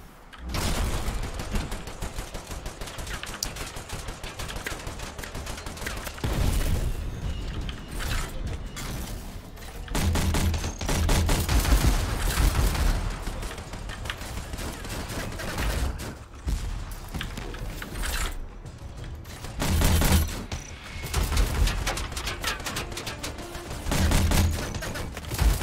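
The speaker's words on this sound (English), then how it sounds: "Oh shit, that's a turret." Turret gunfire in the video game Anthem, with bursts of rapid mechanical shots and clanking weapon sounds, loud and dense throughout with brief lulls between volleys; no speech.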